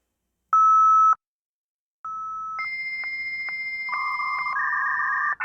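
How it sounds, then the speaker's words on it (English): A dial-up internet modem connecting, a steady tone, a pause, then dialing tones and a rising chain of screeching handshake tones and static, loud and close with no talk. "Oh, and we can't forget dial-up."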